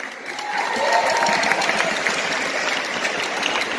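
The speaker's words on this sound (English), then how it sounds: "An applause for Tijan, our presenter." A crowd applauds a presenter at a gathering, steady moderate clapping that swells quickly and holds evenly, with a faint voice briefly heard near the start.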